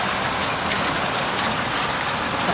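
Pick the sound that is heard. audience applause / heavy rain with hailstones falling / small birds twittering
heavy rain with hailstones falling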